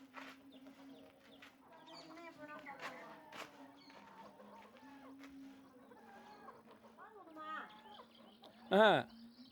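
Several native country chickens cluck and chatter nearby, with a sharper squawk near the end over a faint steady hum in the background.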